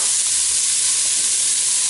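Onions hiss and sizzle steadily in a hot pan for braised beef shank in red wine, a dense, even frying crackle filling the clip at close range with no voices.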